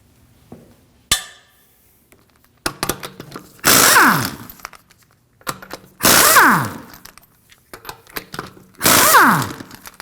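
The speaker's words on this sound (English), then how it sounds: "we can remove the lug nuts with a 22mm" Impact wrench spinning lug nuts off a 2016-2022 Honda Pilot rear wheel with a 22mm socket, three loud whirring bursts at regular intervals, each winding down, with a clink of metal between them.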